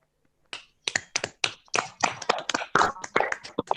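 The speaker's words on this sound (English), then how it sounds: "So I would request one round of applause from all the participants for Dr. Barve sir." Participants at a talk on GeoGebra clap together, scattered hand claps that start after a short pause and build into a steady, close round of applause lasting a few seconds.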